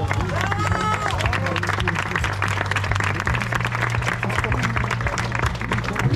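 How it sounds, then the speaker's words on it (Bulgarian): Crowd applauding runners at the finish of the EGT Morning Run 20 km race, steady dense clapping and hubbub throughout with a low droning tone underneath and voices mixed in. "Силни аплодисменти за тях."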